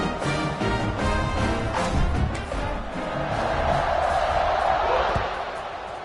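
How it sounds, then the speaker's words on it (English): A football stadium crowd at a Seminoles game hums and roars loudly after a score, a broad, sustained wash of cheering with a commentator talking over it. "this crowd is buzzing after that last score"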